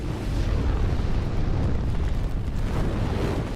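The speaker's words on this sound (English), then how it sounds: "she jams an electrostick directly into the aircraft's engine, causing an immediate explosion" An aircraft explodes in a Marvel film when an electrified baton is jammed into its engine, a dense roaring blast with heavy low rumble sustained for several seconds without speech.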